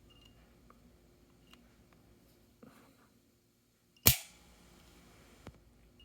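An HK P2000SK pistol dry-fired with no ammunition gives a few faint trigger-reset clicks, then one sharp loud snap of the hammer falling, followed by a quieter click.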